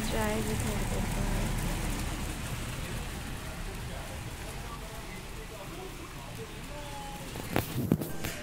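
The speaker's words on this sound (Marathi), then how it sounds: "तर पाऊस बाहेर सुरूच आहे" Steady rain pours outside during a hot-season meal, a dense continuous patter on surfaces with people talking over it and a few clatters close by near the end.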